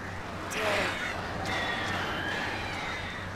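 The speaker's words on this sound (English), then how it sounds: "Oh no, the birds." Crows cawing in the video game Alan Wake Remastered, a few harsh calls rising over a steady ambient background hum, moderately loud with no talk.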